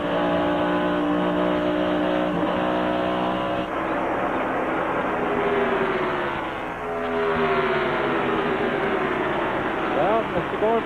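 NASCAR race cars roar past at close to 180 mph, a loud, continuous engine howl that swells and shifts in pitch as the pack streams by.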